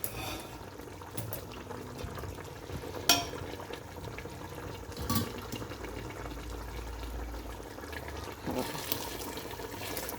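Water is poured into a pot of chicken biryani rice, a continuous splashing and filling sound with occasional clanks, heard under a woman's speech.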